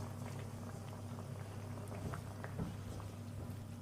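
Chicken 65 masala simmering in a pan after a little water is added, giving a faint, steady bubbling and sizzling with small irregular pops.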